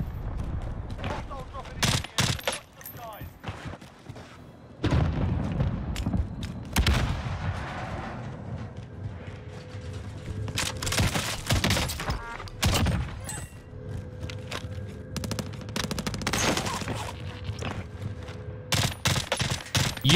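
A mounted Carv 2 rifle in a first-person shooter game fires repeated loud, punchy bursts with short pauses between them, and a voice speaks in the gaps.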